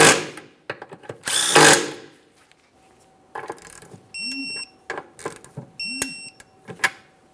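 A power tool tightens two nuts on the transfer case support underneath a 2011–2021 Jeep Grand Cherokee 3.6L V6 in short, sharp bursts separated by pauses, with a couple of brief high electronic beeps between runs.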